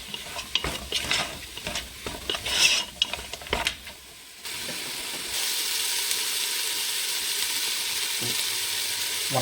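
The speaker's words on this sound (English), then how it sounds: "coriander, cumin, and cinnamon stalks. All 4 of them. Mix it up well together." Coriander, cumin and cinnamon stalks are stirred in a pot for goat meat stew, with clattering scrapes for about four seconds before giving way to a steady, close sizzling hiss.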